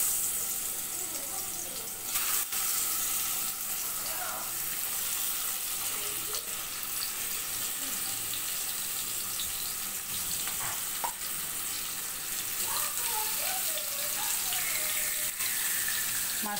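Hilsa fish frying in a pan, a moderate continuous hiss and crackle with occasional spatula knocks and light clatter, some running-water-like wash in the mix, no talk.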